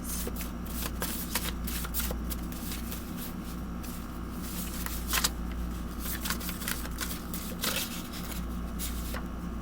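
A deck of cards being shuffled to draw a card during a tarot-style reading, giving a steady, close riffling and slapping texture with repeated soft snaps, no talk.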